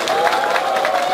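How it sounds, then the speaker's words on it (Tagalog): A brief burst of crowd applause at a distributor orientation seminar, many hands clapping densely together in a quick, continuous patter. "Milyon-milyon palakpak!"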